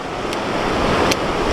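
Sea waves wash against the rocks at Cabongaoan Beach in Burgos, Pangasinan, at night: a continuous loud rushing surf roar mixed with wind buffeting the microphone, with two faint brief clicks.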